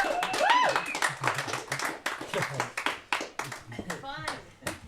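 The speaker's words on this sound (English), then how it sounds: "Let's give them another round of applause" Audience claps after an improv comedy scene, a round of applause of moderate loudness with scattered cheers and children's voices mixed in, the clapping dense at first and thinning out toward the end.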